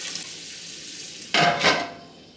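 Onions hit lard in a hot pan for lecsó, a quiet background hiss jumping into two short bursts of loud sizzling and stirring before settling, no talk.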